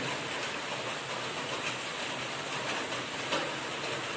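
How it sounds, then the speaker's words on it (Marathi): Floodwater rushes strongly after heavy monsoon rain in Talawade, Sindhudurg, a steady broad roar of flowing water heard close and loud throughout, with no talking. "बघा आपणा पाण्याचा प्रभाव किती जोरात वाहताना दिसता"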